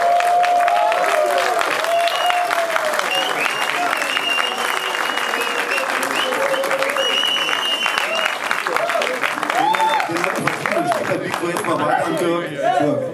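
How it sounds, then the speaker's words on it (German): A crowd applauding steadily throughout, dense clapping with some cheering and chatter mixed in, while voices talk over it near the microphone. "Kommt hier sein Applaus, würde ich sagen."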